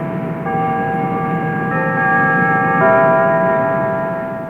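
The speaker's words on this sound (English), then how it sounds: "The church bells are from Grace Lutheran Church." Church bells of Grace Lutheran Church in Rural Retreat, Virginia, in a 1957 recording, ring loud and steady with sustained overlapping tones that swell and blend throughout, no voices present.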